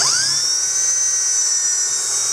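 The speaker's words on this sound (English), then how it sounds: "I actually put the drill into reverse, because this is only plastic and it makes a much cleaner and much more gentle cut." Power drill spinning in reverse while cutting a hole in a plastic bucket, a high, steady whine that ramps up at the start and holds for a couple of seconds, loud and close.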